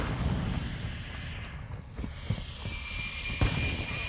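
An allied drone hums steadily overhead in Modern Warfare II Domination on the Breenbergh Hotel map, a low continuous engine drone with a faint whine rising in pitch and occasional distant thumps.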